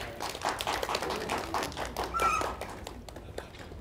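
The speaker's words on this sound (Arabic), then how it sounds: "تصفيق على نور الهدى وياسمين." An audience claps for children at a festive Eid al-Adha children's show, a lively burst of scattered hand claps with a few sharper taps, fairly close, fading toward the end.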